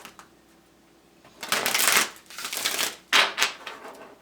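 A deck of wisdom cards handled and shuffled up close: crisp riffling bursts of card noise in a few separate runs, with quiet gaps between.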